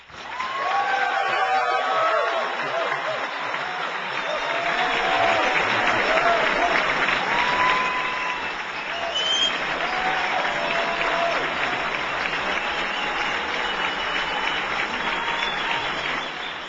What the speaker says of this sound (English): Ladies and gentlemen, please warm round of applause for Lou Rockwell